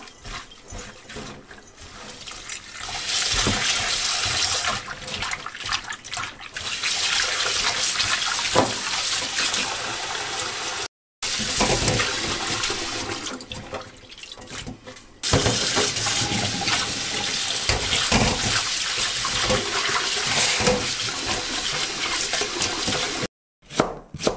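Chicken feet scrubbed with salt and flour under running water, a continuous close splashing and rushing with rubbing and knocking sounds, briefly cut off twice, no talk.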